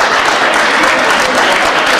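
A dining-room crowd at a club dinner claps warmly, a loud, dense and continuous round of applause filling the whole moment.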